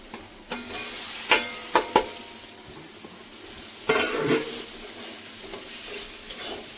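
Potatoes stirred into spiced oil with turmeric and Kashmiri chilli powder in a village kitchen pan, a steady sizzle broken by several sharp scrapes and knocks of the spoon against the pan.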